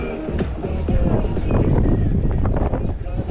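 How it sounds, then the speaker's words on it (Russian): A strong wind buffets the microphone outdoors in Crimea on a windy June day, a steady low rumbling roar that swells and gusts throughout. "Да, сегодня ветрено тоже"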